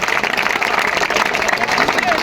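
An audience at a college cultural function applauds, a dense, steady wash of clapping that stays loud and unbroken throughout, with crowd noise mixed in.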